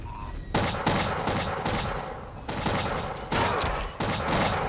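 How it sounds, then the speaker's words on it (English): Repeated musket volleys in Empires of Europe, several broad crashing blasts in quick succession with sustained rumbling battle noise between them, loud and close, no talk over it. "Open fire!"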